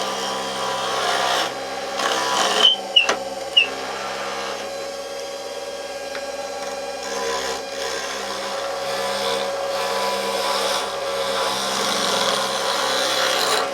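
An oak utensil handle spins on a friction-drive woodturning lathe under a steady motor whine, with a tool scraping and cutting into the wood and a few sharp knocks near the start.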